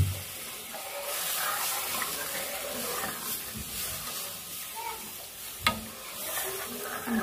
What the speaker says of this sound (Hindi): इसमें हम पानी भी डाल देंगे